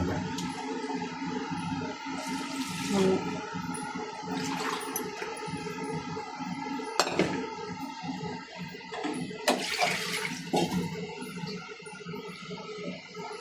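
Ginger-garlic wash water poured into simmering mutton stock for seeraga samba biryani, a rushing, splashing pour with several louder surges over about thirteen seconds.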